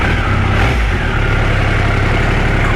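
A Triumph Sprint motorcycle engine runs close by, a loud, steady low throb with a slightly lumpy rhythm that briefly dips and then settles back into an even idle.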